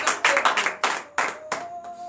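A congregation claps during a Tuesday morning prayer service in Comè, Benin, in loud, close, rhythmic bursts of hands striking together, with short pauses between groups of claps and a faint sustained tone underneath.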